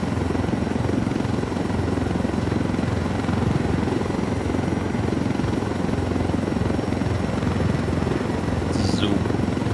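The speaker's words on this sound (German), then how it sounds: "Bringen Sie den Hubschrauber zum Treffpunkt" A helicopter flies in Tom Clancy's Ghost Recon Wildlands, its rotor and engine a loud, steady, continuous roar that fills the whole stretch without a break.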